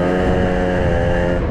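A Yamaha Aerox scooter engine holds a loud, steady high-rev drone at wide-open throttle, close up and alone, with dense buzzing harmonics that fail to climb any higher.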